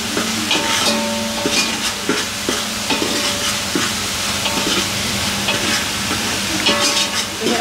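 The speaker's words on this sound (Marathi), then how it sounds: "असं 2 मिनटं परतून घ्यायचं" Ginger-garlic paste and onion paste sautéing in a pan for dum biryani, a steady close sizzle with repeated scraping stir strokes throughout.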